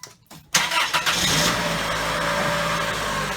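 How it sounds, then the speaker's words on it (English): A Plymouth Breeze car engine starts after a brief quiet moment, cranking into life with a sharp catch and short revving, then settling into a steady idle close by. "Okay, Sherry, start the car."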